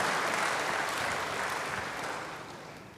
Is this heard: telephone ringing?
no